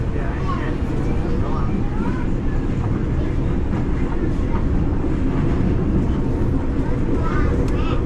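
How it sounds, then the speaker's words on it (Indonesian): Continuous low rumble and clatter of a commuter train from Jakarta Kota station passing close by, steady and loud throughout, with faint squeals and some background voices. "ini kita papasan sama kereta api yang dari stasiun kota ya"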